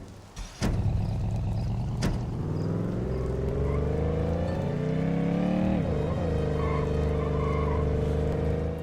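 A car driven in The Godfather video game on Xbox 360, its engine rising and falling in pitch as it accelerates and eases off, steady and close, with a couple of sharp knocks early on and no speech.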